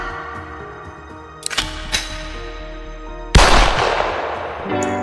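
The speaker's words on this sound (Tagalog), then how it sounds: "Sige, putok mo yung baril mo." Gunshots in a Filipino short film, heard as a few sharp, loud cracks: two lighter reports early, then a louder blast with a ringing decay, over a tonal musical score.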